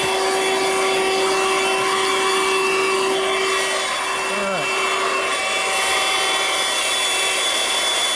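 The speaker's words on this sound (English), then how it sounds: "But the vacuum works. Can't shut it off." A 12V DC Audew portable car vacuum cleaner runs steadily with a loud, high motor whine and an airy rush, close by, with a brief word from a voice partway through.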